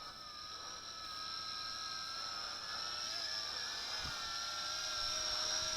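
Yizhan i8h Tarantula quadcopter drone hovering and descending, a steady high-pitched whine of small props with shifting tones, fairly faint and continuous, with no talk.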